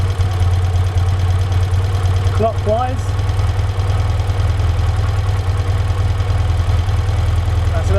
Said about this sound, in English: Now we need to listen to the engine noise.